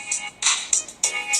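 A phone rings with an incoming call, five short bright electronic ringtone bursts in a quick repeating pattern, fairly faint and close with no voices.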